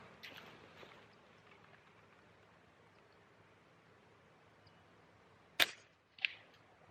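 A .22 caliber tracer round fired toward a tree in the outdoors, one sharp crack followed shortly by a softer second report, over a faint quiet background.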